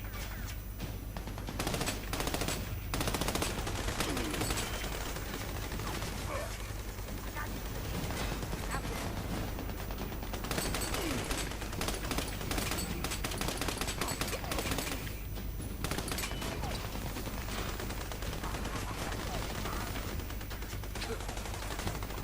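Dense, sustained machine gun fire rattles on without pause in the video game Army of Two, loud overlapping bursts of automatic gunfire filling the whole stretch.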